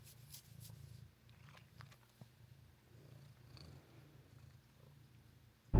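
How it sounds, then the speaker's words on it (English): A soft, close purr from a female cat rumbles in a slow steady rhythm of breaths, quiet and alone apart from a brief bump at the end. "You hear her purring?"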